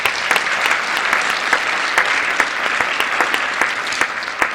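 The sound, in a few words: audience applause at live magazine show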